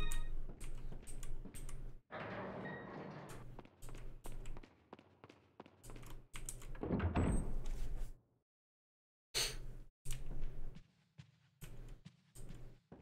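Computer keyboard keys clatter in quick irregular bursts close to the mic, with a few pauses and a brief full silence near the end, no talk over the clicking.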